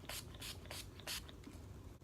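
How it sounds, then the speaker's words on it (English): NYX setting spray is misted onto a face in four or five quick, soft hissing bursts with short pauses between them, close to the microphone in a quiet room. "I'm just gonna spray a little bit of the NYX setting spray so that it kind"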